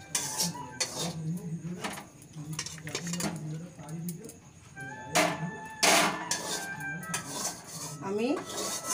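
A pot of spicy chickpeas is lifted off a gas stove in a home kitchen, with repeated metallic clatters and clanks of cookware and utensils, several sharp knocks, amid a busy, close kitchen background.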